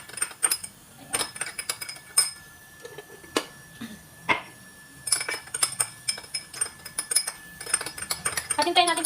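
A metal spoon stirs tomato paste into water in a pan while making a Lebanese meat dish, giving irregular light clinks and scrapes, spaced taps and rattles, with quiet moments between them.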